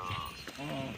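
Ox hooves clop from a bullock cart hauling a load of chillies over a short dirt stretch, a brief rhythmic patter heard beneath a voice.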